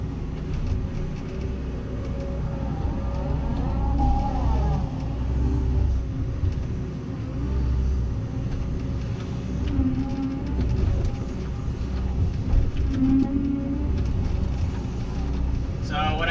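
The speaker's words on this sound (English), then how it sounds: "Use the Compaction wheel from MBW." An MBW compaction wheel packs soil in lifts at a lake job site, a heavy, continuous machine rumble that rolls on steadily throughout with no breaks.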